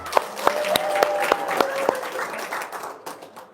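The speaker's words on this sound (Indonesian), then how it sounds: "Tepuk tangan dong." Audience applause at a religious gathering, a room of listeners clapping in a steady, fairly loud burst with distinct individual claps near the front, trailing off at the end.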